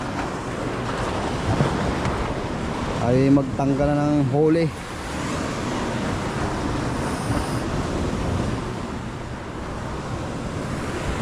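Sea waves and wind wash around a fishing boat out on open water in a steady, roaring bed, with a voice talking briefly over it midway.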